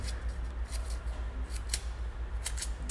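Scissors snip firm paper or cardstock in a string of crisp, close cuts, each a short bright rasp with a steady rhythm of about a dozen strokes, and no voices.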